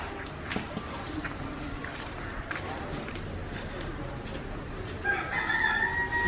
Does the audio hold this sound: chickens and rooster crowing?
yes